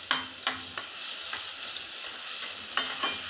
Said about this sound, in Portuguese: Aqui eu vou dar uma fritada no meu alho